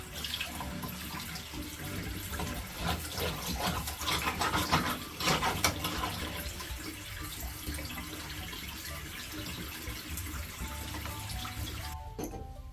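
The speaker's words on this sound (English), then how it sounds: "turn the water on to make sure" A bathroom sink faucet runs steadily into a sink while snaking a drain, a continuous close hiss and splash of water that stops abruptly near the end.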